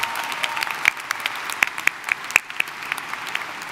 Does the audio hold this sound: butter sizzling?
no